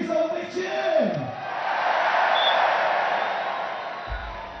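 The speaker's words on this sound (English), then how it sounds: "Give yourself a big cheer!" Large crowd roars and cheers at the London 2012 Olympic beach volleyball venue, a broad sustained swell of voices with whoops and yells that builds after a brief announcer-like voice at the start.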